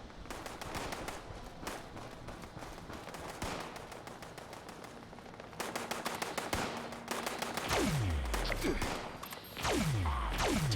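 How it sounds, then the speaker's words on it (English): Gunfire in the video game Fallout 76 comes as rapid bursts of automatic shots and scattered single cracks, fairly faint, with short pauses between volleys. "They're shooting at a rock"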